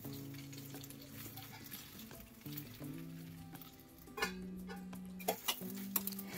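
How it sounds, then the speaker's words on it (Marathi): Stuffed okra (bhindi) sizzles steadily in a pan while being stirred, with a spoon clinking and scraping against the metal several times over a constant frying hiss, close and without talking. "सर्व भेंडी घालून झालेली आहे। आता तिला छान हलवून घ्यायचं आहे।"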